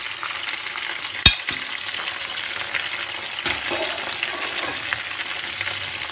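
Roasted whole spices, turmeric, chilli and salt are stirred into a hot pan for a sweet turnip pickle with melting jaggery, giving a steady close sizzle broken by a sharp clink of the spoon.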